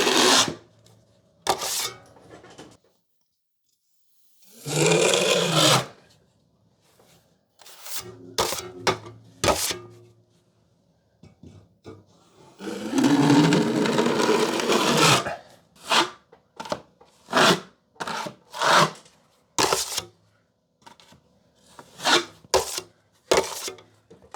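A drywall knife drags joint compound along a ceiling seam during the fill coat, making intermittent rasping scrapes in short bursts separated by quiet pauses, with a couple of longer strokes, close and fairly loud.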